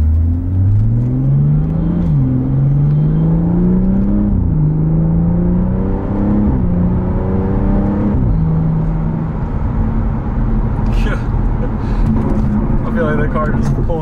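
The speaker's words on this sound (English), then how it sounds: "There's that turbo flutter we all love to hear." BMW B58 engine fitted with a Turner carbon fiber intake, a loud steady drone rising and dropping through gear changes, with a fluttering chatter from the turbo toward the end and a voice talking over it.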